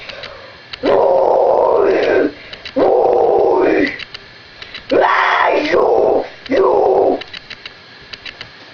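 Four loud, strained screams in a row, each held for about a second and a half with short breaths between, close and forceful.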